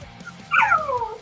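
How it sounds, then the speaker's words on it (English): A dog gives a short, high whimpering yip that slides downward in pitch, close and clear against a quiet indoor background. "I've got to take this dog out."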